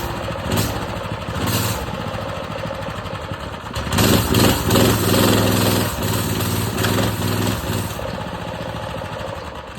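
A Predator 212 engine on a minibike runs close by, loud and steady with a rough, uneven idle, swelling louder from about four seconds in.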